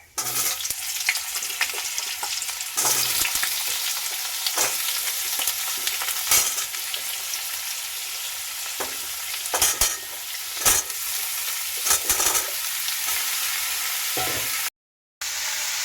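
Pumpkin and potato pieces frying in hot oil tempered with black cumin seeds, a steady close sizzle throughout broken by repeated spatula scrapes and stirring clatter against the pan.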